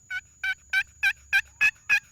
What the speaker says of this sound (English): So this is how you do a cluck on a yelp on a box call.